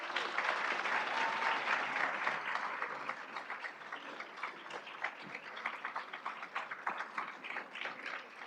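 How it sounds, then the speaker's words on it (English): An audience at an award lunch claps for finalists as they walk to their seats, sustained dense applause that stays even for a few seconds and then thins slightly into scattered, lighter claps. "Please give all of our finalists and Hilda another round of applause"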